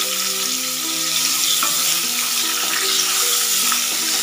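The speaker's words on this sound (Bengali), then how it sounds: "এটা একটু ভাজা ভাজা করে নেব" Boiled chickpeas fry in a pan over a medium flame, giving a steady, loud sizzle with occasional stirring scrapes and faint crackles throughout.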